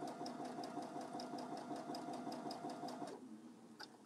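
A sewing machine stitches steadily around a curved seam on a farmhouse apron, its fast even whirr running loud and close for about three seconds before stopping, followed by a faint click.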